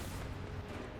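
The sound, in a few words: tank cannon shot in War Thunder video game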